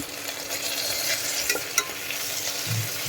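Tomatoes and chilies sauté in a pan for biryani, giving a steady close sizzle and frying hiss. A few stirring scrapes and clinks sound at moments, and no one speaks.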